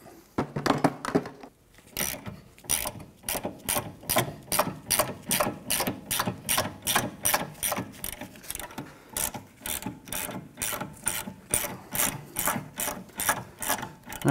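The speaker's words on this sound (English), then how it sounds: "And we'll switch over to a ratchet." A hand ratchet clicks rapidly and evenly while loosening brake bolts on a 2007-2013 Acura MDX rear brake, in a long steady run of sharp close ticks after a brief fumbling start.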